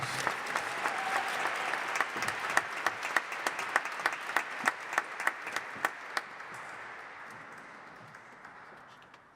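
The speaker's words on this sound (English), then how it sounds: "So if y'all could give Candis Watts Smith just one round of applause" Audience applause at a Martin Luther King Jr. commemoration ceremony: a steady wash of clapping from a large crowd with a few sharp, close claps standing out, gradually thinning and fading toward the end.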